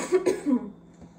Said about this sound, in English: Sorry if I'm like coughing,